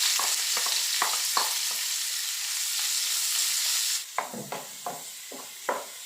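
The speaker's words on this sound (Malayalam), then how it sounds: "ഇനി 2 മീഡിയം സൈസ് സവാള അത് ഈ ഓയിലിലേക്ക് ഇട്ട് നമുക്ക് നന്നായിട്ടൊന്ന്" Two medium onions frying in hot oil for prawn biryani, a steady bright sizzle with occasional stirring scrapes, close and loud with no voices.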